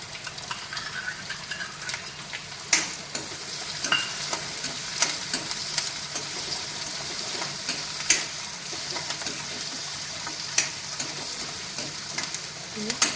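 Onions roasting in a pan for upma to golden brown, with a steady close sizzle and repeated sharp clinks of a spoon stirring against the metal pan throughout, no voices.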